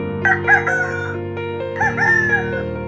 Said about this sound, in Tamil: சேவல் கூவியது